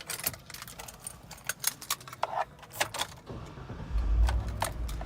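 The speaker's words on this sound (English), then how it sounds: "let's see if I can pull out the keys" A bunch of keys jingles in quick, irregular clinks as they are pulled from a Mercedes-Benz car's ignition, fairly close and with no talk, followed by a low rumble near the end.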